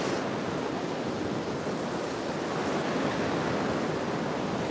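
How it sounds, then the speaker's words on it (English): Steady wind blows outdoors, a continuous broadband rush that stays loud and unbroken throughout with no voices. "It is windy here today"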